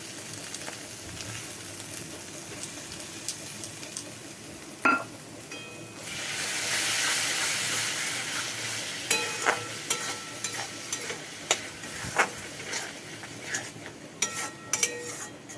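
Masala paste with tomato paste fries in oil, giving a continuous sizzle that swells briefly while it is stirred, with scattered scraping clicks of a spatula against the pan.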